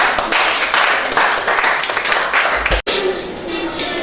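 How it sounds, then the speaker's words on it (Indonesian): A classroom full of students claps in sustained, dense applause, loud and close, cut off abruptly near the end and followed by a brief rustling murmur. "Tepuk tangan untuk yang belum belajar."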